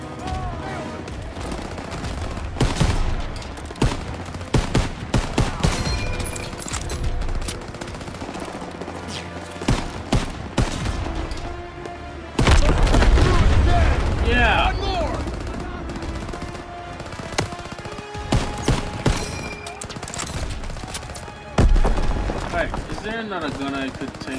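Call of Duty WW2 campaign battle gunfire: heavy automatic and rifle volleys crackle in repeated loud bursts, with soldiers' voices calling out between and over the shooting.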